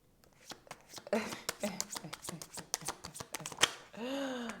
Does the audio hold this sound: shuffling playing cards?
yes